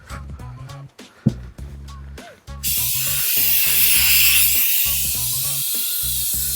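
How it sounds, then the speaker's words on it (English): A steady, loud aerosol hiss of insecticide spray sprays continuously for several seconds inside an RV, following a stretch of clicks and rustling handling sounds. "make sure you get that spray in all the areas they may be"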